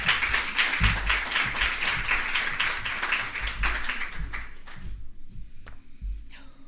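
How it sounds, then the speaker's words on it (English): An audience claps at a student loans and grants event, brisk and fairly close at first, then thinning out to a few scattered claps before stopping. "Clap her for a minute, please."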